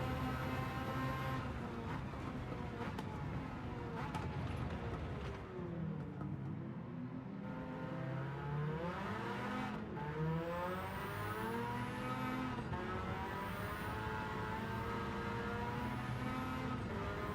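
Race car engine in a racing video game revving hard and sweeping up and down through gear changes, loud and close for the whole stretch with rising and falling pitch.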